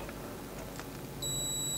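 A continuity tester on a pulse generator's fuse gives one steady, high electronic beep that starts abruptly partway through and holds to the end, over a faint hum.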